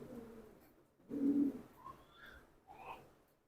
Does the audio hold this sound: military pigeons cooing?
yes